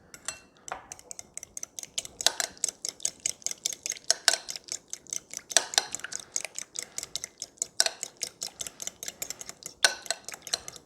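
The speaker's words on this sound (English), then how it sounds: "So all I'm going to do is I'm just going to mix it together so it's melted good." A spoon stirring a melted mixture for keto coconut flour chocolate chip cookies, tapping and scraping against the bowl in quick, fairly regular clinks, close and moderately quiet.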